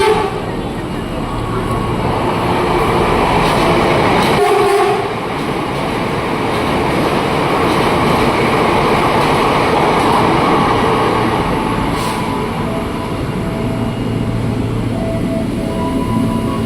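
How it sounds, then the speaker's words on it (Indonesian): KRL commuter train pulling into platform 2 at Tanah Abang station in the morning, a loud sustained rumble of wheels and carriages with rail clatter, dipping briefly midway before rolling on steadily. "Khusus buat KRL yang masuk jalur 2 dan disusul sama kereta bandara."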